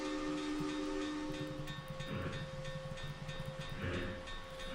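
A Trainz 22 video game steam locomotive with steady rhythmic chuffing over a constant engine drone, plus a sustained whistle tone running through, all fairly close and continuous.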